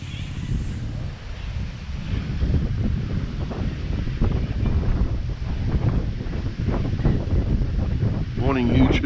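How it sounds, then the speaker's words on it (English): Strong outdoor wind buffets the microphone with constant low rumbling gusts at a campsite in Barmah State Forest, continuous and close throughout, with a brief voice near the end. "Fighting with the wind at the moment."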